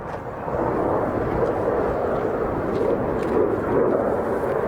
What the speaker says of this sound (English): I think that's him turning onto the runway now